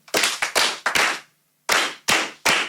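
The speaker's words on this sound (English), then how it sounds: "Can we clap hands for her?" Children in a primary school coding and robotics class clap hands in two short bursts of a few sharp, close claps each, separated by a brief silent pause.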